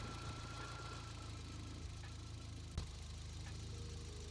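Turbocharged Toyota 22RE engine with a rough idle, a steady low mechanical drone with a faint uneven pulse and an occasional knock, heard close and alone without talking.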